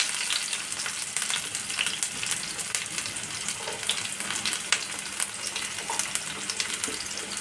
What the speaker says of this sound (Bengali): তেল গরম হয়ে যাওয়ার পরে আমি পেঁয়াজগুলো কুচি করে রাখা পেঁয়াজ আমি দিয়ে দিলাম।